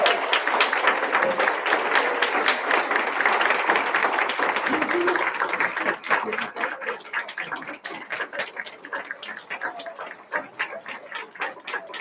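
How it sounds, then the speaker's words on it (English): A board meeting room full of people applauding ten-year teachers, dense steady clapping at first that thins into scattered individual claps toward the end, with a few voices mixed in. "Give them a round of applause."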